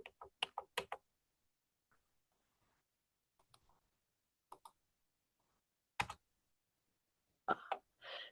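Sharp computer mouse clicks, a quick cluster of several at the start and then scattered single and double clicks, dry and close in an otherwise quiet room.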